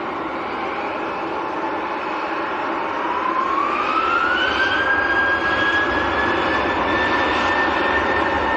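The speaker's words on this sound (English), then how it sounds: "We've got a Lufthansa taxiing out as well." Lufthansa airliner taxiing out at Manchester airport, a steady jet engine roar with a whine that climbs in pitch and then holds, heard from a moderate distance with no talking.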